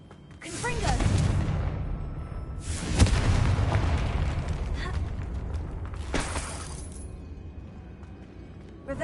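Confringo blasting spells go off in Hogwarts Legacy, three loud booming explosions spaced a few seconds apart, each with a rumbling tail that fades out.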